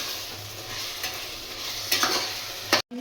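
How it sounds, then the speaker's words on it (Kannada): Curd and tomato frying in a pan for mutton biryani, a steady hiss of sizzling with a few stirring scrapes near the end before a brief cut to silence, with no talking. "ಇದು ಟೊಮೆಟೊ ಜೊತೆ ಚೆನ್ನಾಗಿ ಫ್ರೈ ಆಗಲಿ"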